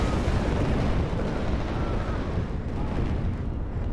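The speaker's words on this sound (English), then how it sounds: "we have short swords coming in with the bombing runs here" Bombing-run explosions in WARNO with a Halo mod: a dense, continuous roar of heavy blasts and rumbling booms, loud and close, blending into one sustained barrage with no gaps.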